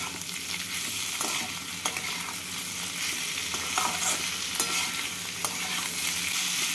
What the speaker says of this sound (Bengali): এবার এর মধ্যে দিয়ে দেবো টমেটো দিয়ে নাড়াচাড়া করে নেব।